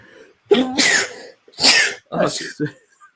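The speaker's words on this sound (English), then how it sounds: "I just sneeze." One sharp, close sneeze bursts out, then a breathy exhale and a brief follow-up sound.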